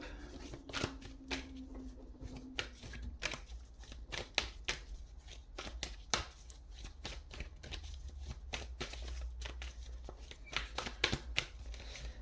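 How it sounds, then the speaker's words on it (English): Oracle cards being shuffled by hand, a steady run of crisp flicks and papery riffles, close and fairly quiet, continuing for several seconds without talk. "I'm gonna draw some oracle cards immediately as well."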